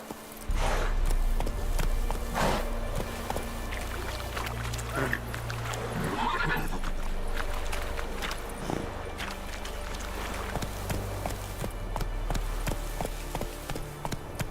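Roach, the horse in The Witcher 3, gallops with a steady rhythmic clip-clop of hooves under ambient game sound and background music, fairly close and continuous throughout.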